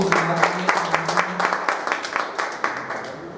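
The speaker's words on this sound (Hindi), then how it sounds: "मुफ्ती साहब के लिए थोड़ा जोरदार तालियां लगाइए" A gathered crowd claps for a mufti at a meeting, giving scattered, moderately loud applause with distinct individual claps, while a voice speaks faintly underneath.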